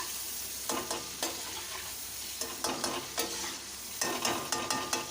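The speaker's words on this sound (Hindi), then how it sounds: "चलें जब तक हमारे प्याज गोल्डन ब्राउन हो जाए।" Onions frying toward golden brown for chicken biryani, a continuous close sizzle broken by repeated bursts of stirring and scraping in the pan, rising and falling in uneven rhythm.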